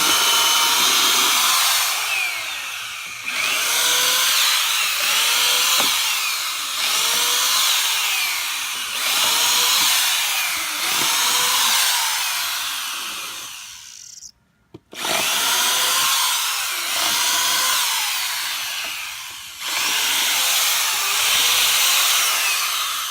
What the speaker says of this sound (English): So we have to pre-drill every one of the holes because the old is wood and a little brittle